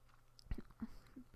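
Quiet gum chewing close to the mic, a few soft wet smacks and clicks spaced out over a brief, hushed moment, with no talking.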